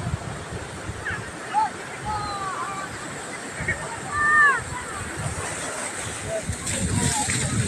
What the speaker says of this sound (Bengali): জলটা কতটা জোরে আসছে, বাবা পড়ে যাবো গো, এত জোরে আসলে পড়ে যাবো।